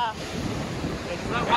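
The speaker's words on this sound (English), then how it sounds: "Still pretty windy." Strong wind at Cowan Cowan on Moreton Island buffets the microphone in a continuous rough roar, with surf-like rushing underneath and a voice faintly audible.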